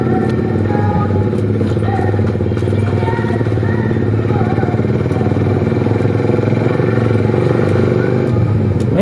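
A Suzuki GSX R150 sport motorcycle with a Arnan GP aftermarket exhaust is ridden on the road. The engine drones and accelerates steadily and loudly, with wind and road noise around it, and no clear voices.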